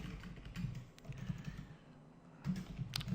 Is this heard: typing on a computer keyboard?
yes